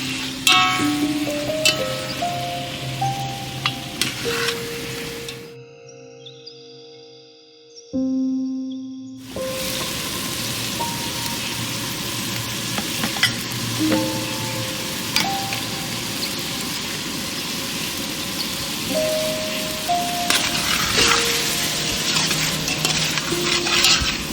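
A spoon scrapes and clatters as mutton and potatoes are stirred and fried in a pan for a village-style aloo meat, with repeated close strokes, a few seconds of silence in the middle, then more stirring.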